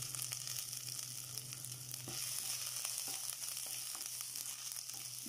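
Chopped ginger sizzling in hot oil for broken wheat upma, a soft, even frying hiss with occasional light taps and stirs, fairly quiet and without speech.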